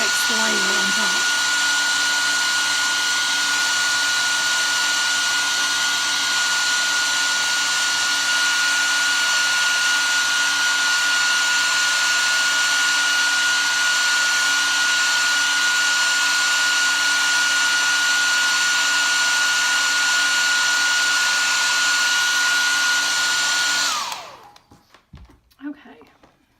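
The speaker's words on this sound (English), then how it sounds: "let's give it a quick dry with a hairdryer" A hair dryer blows on a chalk-paste craft project with a loud, steady whine and rushing air for over twenty seconds before switching off, followed by faint handling noises.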